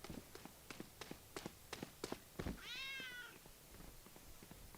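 A single short cartoonish cat meow from a cat spray in the video game Valorant, rising and falling near the middle, set among quick in-game footsteps and clicks during a Halloween-themed esports match, with no talk over it.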